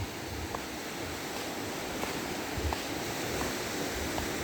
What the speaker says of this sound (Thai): แต่ว่าคลื่นจะไม่ใหญ่เหมือนกับแถว หาดสุรินภูเก็ตอย่างนั้นเขาจะเล่นวินเซิร์ฟได้